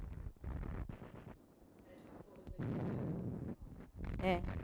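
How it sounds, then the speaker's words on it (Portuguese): Archival film footage of Spanish Civil War bombardment: several heavy explosion bursts and rumbles with wind-like noise between them, muffled and distant, and a faint tone near the end. "Aqui são bombardeios."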